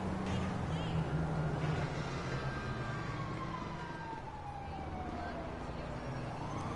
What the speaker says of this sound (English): Anytime I hear sirens, it could be my car